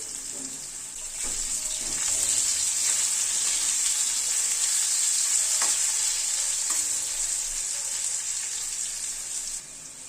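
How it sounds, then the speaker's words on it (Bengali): Boiled potatoes with a little salt frying in oil, a continuous bright hiss of sizzling that builds after a second and holds steady for about ten seconds, with occasional soft stirring taps, no talking. "আলুটাকে দিয়ে আলুটাকে প্রথমে একটু ভেজে নেব।"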